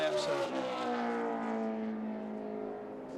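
A NASCAR Nationwide Series race car on a qualifying lap at Las Vegas in 2009, its engine a loud sustained drone whose pitch slowly falls as it passes, with commentators talking over it.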